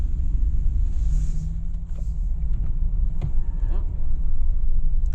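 A car drives along a quiet snowy country road past farmland with cows, its low engine rumble and road noise steady and close throughout, with faint talk in the cabin.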